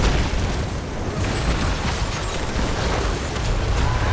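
A continuous booming explosion from a Heroes of the Storm match, a loud, steady broadband rumble with popping bursts, heard alone throughout.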